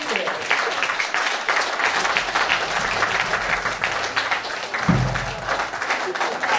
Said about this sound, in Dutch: En graag een heel groot applaus voor dit mooie.